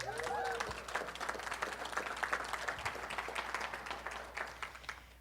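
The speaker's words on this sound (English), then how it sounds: "I think we need a round of applause for that" Applause from a small audience in Fargo, North Dakota: soft, fairly distant clapping that holds steadily for several seconds and then tapers off.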